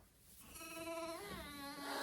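Sheep bleating inside a barn on a homestead, a couple of close, wavering harmonic bleats overlapping one another, fairly loud with no talk.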